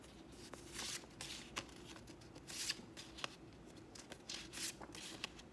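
Paper note cards are shuffled and handled up close, producing quiet, crisp rustles and flicks in irregular bursts.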